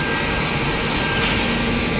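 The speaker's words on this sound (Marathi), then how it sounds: "मडगाव ट्रेन आता अंजनीला आलेली आहे आणि हिला पण साईड ट्रॅकला टाकलं आहे" The Madgaon train stands on a side track at Anjani station, giving off a steady low rail rumble and mechanical hum that stays even, with a brief hiss near the middle.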